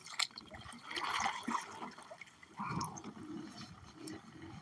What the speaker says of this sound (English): Now I'm gonna paddle myself over here.